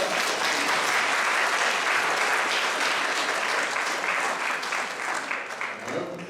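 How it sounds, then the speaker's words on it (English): Audience applause for the director of a stage production of Every Brilliant Thing during a post-show talkback, a steady, dense round of clapping sustained for several seconds before tapering slightly at the end. "If we give Brad a nice round of applause."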